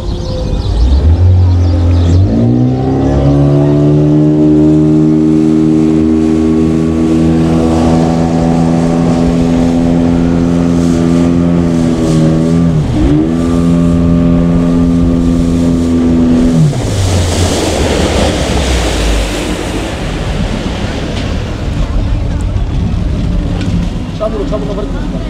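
A speedboat cruising on the water at Dream Holiday Park in Narsingdi, its engine a loud, steady droning hum that rises and dips in pitch as it throttles, with water spray hissing along the hull.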